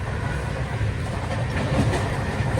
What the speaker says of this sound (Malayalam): ട്രെയിൻ ഇപ്പോൾ 130 km/h സ്പീഡിലാണ് പോയിക്കൊണ്ടിരിക്കുന്നത്